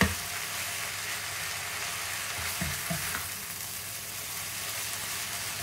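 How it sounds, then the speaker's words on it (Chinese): Noodles with bean sprouts and eggs are stir-fried in a hot pan, giving a loud, continuous hiss of sizzling with a few brief scraping stirs, alone without talk. "咁就炒啦"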